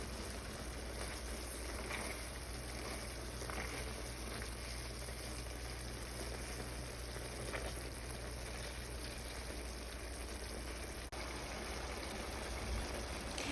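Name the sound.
tomato and eggplant cooking with water, mashed in pan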